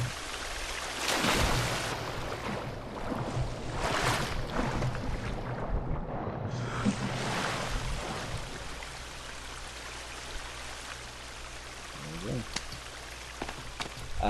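A character swims in the water in The Forest video game, with steady watery swishing and splashing that rises loudly early on, then settles into a softer, continuous wash.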